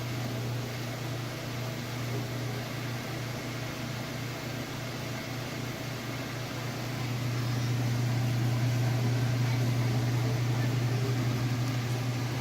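A Whirlpool washer drum spins at high speed, a steady close mechanical whir with a low hum that grows slightly louder and stronger partway through, with no talk.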